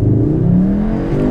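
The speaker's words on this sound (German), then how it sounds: "Gib mal Gas und mach nochmal eine schnelle Runde, oder?" A 2021 Cupra Formentor in Cupra mode accelerates hard, its engine note droning loud and close with a steady rising tone inside the cabin, no talking.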